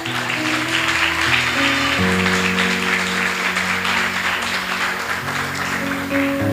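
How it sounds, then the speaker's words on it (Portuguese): A church congregation applauding during a missions service, dense continuous clapping blended with sustained keyboard chords playing underneath. "Você pode aplaudir Jesus, irmãos?"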